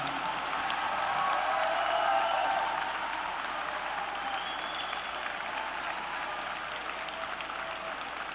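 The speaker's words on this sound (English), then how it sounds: "I would love for you to give them a big-ass round of applause because it was damn hard." Graduates at a spring university commencement applaud their families, a sustained crowd clapping that swells loudly in the first few seconds and then holds steady, dense and even to the end, with no voices over it.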